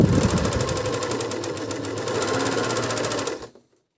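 A Dragonfly 854 overlock sewing machine runs steadily at close range, a fast even mechanical chatter and hum stitching stretchy bi-flex fabric for about three and a half seconds before stopping abruptly into silence.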